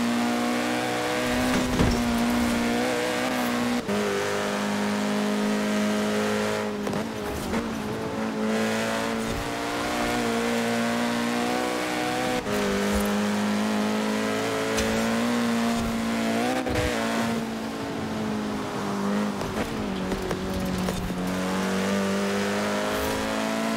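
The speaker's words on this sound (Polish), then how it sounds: "Także bardzo ciekawe auto, ten Scirocco." A Volkswagen Scirocco in the racing game Forza Horizon 4 revs and accelerates, its engine tone rising and falling through the gears with occasional tire squeal, loud and steady throughout without talk.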